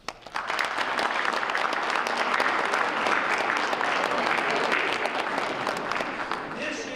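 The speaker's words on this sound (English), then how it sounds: "How about the teachers give the students a round of applause?" Audience at a school academic excellence award ceremony in Windber applauds the students, a steady burst of clapping from a sizable crowd that holds for several seconds before tapering at the end.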